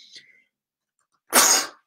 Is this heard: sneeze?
yes